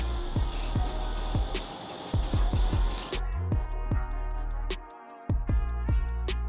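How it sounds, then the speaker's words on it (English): Short hissing bursts of spray paint on sign letters, repeated in quick rhythmic pulses, with rattly clicks between them at close range. "First we gotta spray all these letters from the back"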